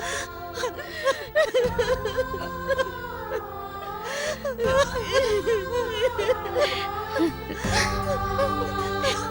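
A woman cries with shaky, whimpering sobs and catching breaths, up close and continuous, while soft dramatic background music plays underneath.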